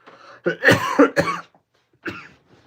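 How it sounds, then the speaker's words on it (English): A person with a lingering cough gives a cluster of three or four rough, close coughs. After a short pause comes one more softer cough, then a faint trailing breath. "Still got a slight bit of a cough"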